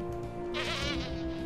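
Buzzing insect wings of the character Wasp in the LEGO Marvel Super Heroes video game: a single bright, wavering buzz rises and holds for about a second over a steady game background tone.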